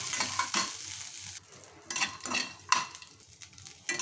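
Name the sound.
ingredients for ginger chutney frying in a pan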